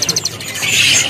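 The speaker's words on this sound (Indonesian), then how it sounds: "Kita pantau yang ini black throat kayaknya," A black-throated songbird at an Indonesian bird market gives a quick run of rapid, high chirps, followed by a louder sustained hissing trill, close and loud over market background.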